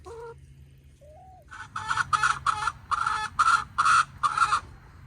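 Chickens cluck close by in a quick rhythmic series of squawky calls, after a couple of softer chirps at the start.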